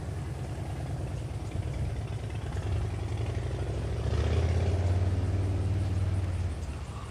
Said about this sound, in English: Someone needs to fix the exhaust.